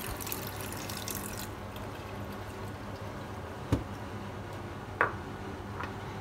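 Tap water runs steadily into a cup being soaked at a sink, a constant wash of flow with a couple of sharp clinks near the end, with no talking.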